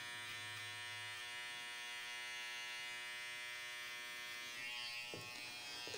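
An electric hair trimmer cuts a man's hair over a comb in a salon. Its steady, close buzz holds for the whole stretch, with slight changes in tone as it moves through the hair.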